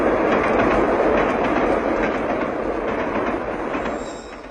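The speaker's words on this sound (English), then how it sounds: "With stereo, an express train roars through your living room." An express train rushes past in a 1959 stereo recording with a loud, continuous rumbling roar and faint clattering, slowly easing off toward the end.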